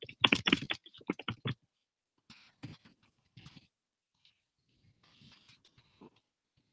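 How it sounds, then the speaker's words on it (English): Typing on a computer keyboard: a quick flurry of close keystrokes at first, then a handful of scattered, quieter taps separated by silence. "So let me type that in really quick here."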